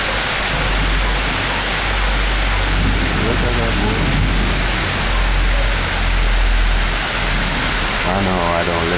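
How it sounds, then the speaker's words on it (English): Steady rain pours down in a continuous broad hiss, with a low rumble of thunder running underneath throughout and a brief faint voice near the end. "I'm gonna show you the rain."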